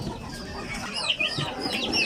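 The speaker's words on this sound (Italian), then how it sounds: "abbiamo comprato qui delle piccole galline" Several young chickens cluck and chirp close by in a busy coop, with overlapping calls and rustling throughout.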